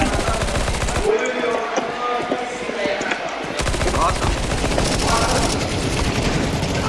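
Rapid gunfire from the video game Counter-Strike 2 on the Anubis map, sustained bursts crackling across the clip with a muffled stretch early on and steady game ambience underneath.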